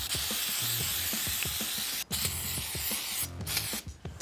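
An aerosol can of cleaner hisses in long steady bursts onto a diesel engine piston from a 5.9 Cummins 12-valve, loud and close, with brief pauses between sprays.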